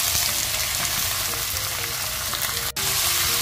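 Pork slices stir-frying in a pan with onions for a Filipino winter melon and pork dish give a loud, steady sizzle that holds almost unbroken, with one brief dip near the end.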